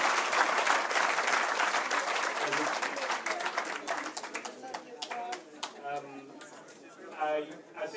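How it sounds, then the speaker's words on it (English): An audience at a Biafran genocide exhibition event gives a professor a round of applause, a dense burst of clapping that thins out into scattered individual claps near the end. "So please, one more round of applause for Prof."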